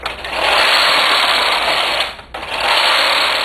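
Knitting machine carriage with ribber attached pushed across the beds knitting slipped rib, a loud steady whirring rumble that dips briefly mid-pass and resumes, heard alone and close.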